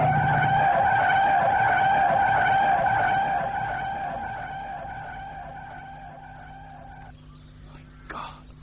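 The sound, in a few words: motorbike coming fast, skidding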